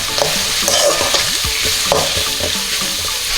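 Onions, curry leaves and macaroni sauté in oil for Indian-style egg pasta, a loud close sizzle under steady scraping strokes of a spoon stirring the pan, with no talking.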